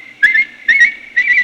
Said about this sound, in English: I'm whistling for help.